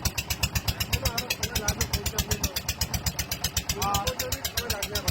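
A boat's engine putters steadily with rapid pulses throughout, with voices talking over it.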